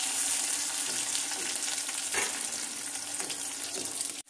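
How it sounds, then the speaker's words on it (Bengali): Potatoes frying in hot oil, making a dense, continuous close sizzle with occasional crackles, loud and steady until it cuts off at the end. "আলুটাকে এবার আমি ভালো করে ফ্রাই করে তুলে নেব"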